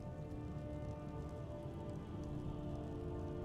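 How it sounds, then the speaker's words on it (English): Rain falls in Skyrim as a steady, even patter on surfaces, continuous and fairly soft, with no voices over it. "Oh great, rain, as if this day couldn't get any worse"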